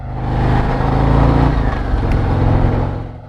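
A motorcycle engine revs up and holds a loud, close, rumbling drone while riding through city streets, with buffeting wind noise over the steady throb.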